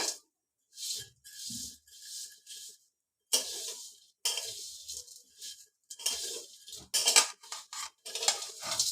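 Vermicelli (simui) frying in a pan, heard as bursts of crisp sizzling and scraping stirs separated by short silent gaps.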